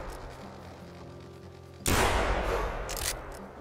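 A single loud hunting rifle shot in theHunter Classic, sharp and close after a quiet outdoor stretch, followed by a fading echo and a second burst of noise.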